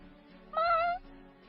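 A person imitates a wild cat's meow with a single drawn-out, nasal yowl lasting about half a second, loud and close, with low background hum before and after.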